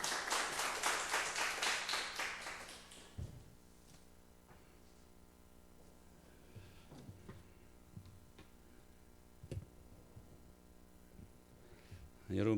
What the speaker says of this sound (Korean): 나오실 때 박수로 한번 환영해 주세요.